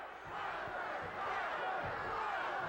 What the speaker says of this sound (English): Crowd hollering pile driver.